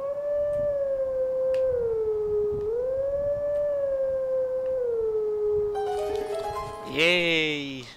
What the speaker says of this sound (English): let's howl to the stone.